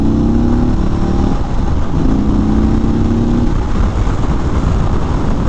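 A 2022 Indian Chief Bobber Dark Horse motorcycle engine rumbles loudly and close while riding, the pitch rising and falling through two throttle swells over wind noise.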